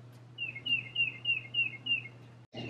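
A bird outdoors chirps six short, evenly spaced high notes in a steady series over a low constant hum, fairly faint and distant, ending with a brief rustle.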